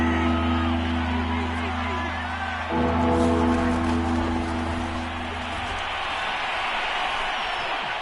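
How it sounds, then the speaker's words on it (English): Stadium crowd in the Madden 22 football video game shouting and roaring as a replay is watched, a dense, loud wash of voices with a steady hum, swelling partway through. "Plenty of shouts from this crowd as they watch the replay."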